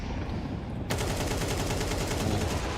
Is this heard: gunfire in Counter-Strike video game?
yes